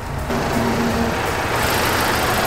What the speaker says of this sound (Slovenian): To je motor.